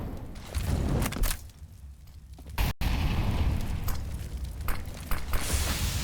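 Two grenades exploding near a corner on the Inferno map in Counter-Strike, giving low rumbling booms with mechanical clatter and a sharp burst midway, set against steady in-game ambience.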